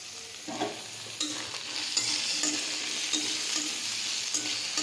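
Potatoes frying in a pan while being stirred, with a steady sizzle and repeated scraping strokes of the spoon over about five seconds, close and moderately loud.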